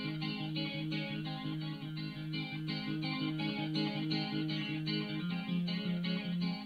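Steady electric guitar part over the opening chords of a song, a bright repeating pattern of picked notes over a low moving line, continuous and even with no talking.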